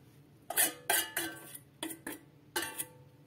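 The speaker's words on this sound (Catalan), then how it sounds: "I barregem, incorporarem l'ou." Beaten egg worked into a crumbly flour dough for an apple flower tart, a utensil clacking against the bowl in about seven distinct, uneven strokes, close and clear with no talk.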